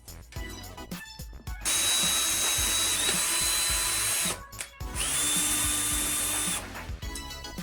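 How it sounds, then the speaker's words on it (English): A Ryobi power drill bores a small 1/8-inch pilot hole into wood, whirring loudly in two sustained bursts with brief pauses and handling noise between them. "We're going to drill a very small pilot hole, about 1/8 of an inch."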